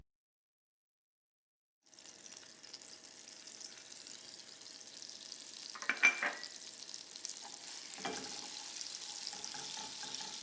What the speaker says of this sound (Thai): ผสมเนยกับน้ำตาลทรายแดงให้เข้ากัน วิธีทำก็คือคนเบา ๆ